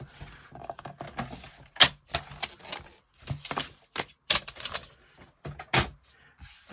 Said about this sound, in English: it's just like a strip, and you just simply cut it